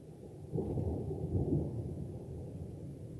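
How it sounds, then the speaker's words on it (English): Thunder rumbles through a Saturday afternoon thunderstorm, a low, rolling boom that swells after half a second and lingers for the rest of the stretch at moderate distance, with no voices. "rain came through here, and it's brought thunder and lightning"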